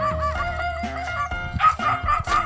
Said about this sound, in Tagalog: Tinahol tayo ng aso guys.